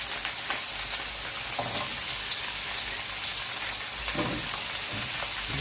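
Vegetables such as onion and hot and sweet peppers hit a hot pan alongside duck pieces, giving a loud, steady sizzle and frying hiss with a few stirring scrapes, close by and without speech.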